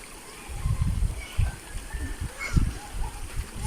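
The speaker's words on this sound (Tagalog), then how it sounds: "Bumalik na naman yung ulan." Rain falls and water runs beside a creek outdoors on a second rainy day, a low, uneven splashing and trickling with soft thuds, fairly quiet and close, with no talk over it.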